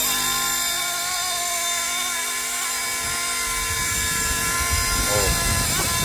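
A radio-controlled MD500 scale model helicopter flies at high rotor RPM, giving a steady, close, piercing whine with layered tonal hum throughout, and brief vocal sounds near the end.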